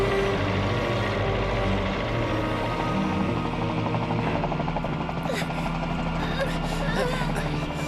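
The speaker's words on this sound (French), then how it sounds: "L'hélicoptère est là, on y va!" A helicopter arrives close by, its dense, loud rotor beat and engine roar holding steady throughout, with faint voices briefly audible beneath it near the end.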